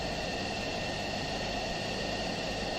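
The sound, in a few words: jet engine spooling at 70% throttle in Falcon 4 flight-sim video game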